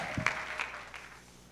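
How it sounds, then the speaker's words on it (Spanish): Brief, scattered clapping from a church congregation, a few distinct claps and a short burst that quickly fades within about a second. "yo le daría un aplauso al Señor."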